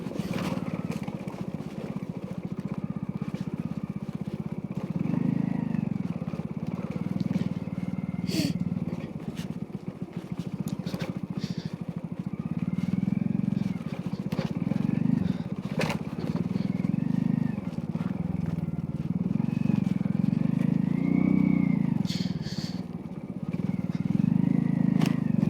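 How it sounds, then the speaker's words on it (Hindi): A motorbike rides along a forest path, its low engine drone steady and fairly close, with scraping and rattling from the rough track over the whole stretch. "कुछ दूर तक बाइक जाएगी,"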